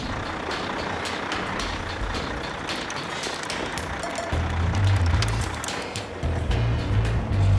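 A truck drives onto frozen lake ice with a steady low engine drone and a growing rumble. It sounds close, with a few faint beeps and clicks over the top.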